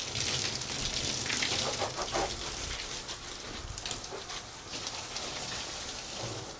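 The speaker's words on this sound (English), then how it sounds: "So I'm gonna rinse it down, make sure it's nice and wet." Water sprays steadily across the hard top of a 34-foot Caymas catamaran, a continuous close hiss and patter like rain on a surface, alone with no talk.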